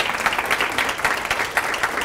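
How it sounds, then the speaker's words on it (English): Applause from an audience at a Lockheed Martin event, a steady wash of many hands clapping with a few sharper individual claps, moderately loud and sustained without talk. "And here's my applause."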